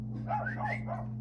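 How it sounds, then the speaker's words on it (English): A dog barks three times in quick succession indoors, moderately close, over a steady low electrical hum. "sorry for the barking, Murphy."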